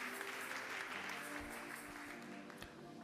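A church congregation applauds together at a French-speaking service, steady and sustained clapping filling the room for the whole stretch.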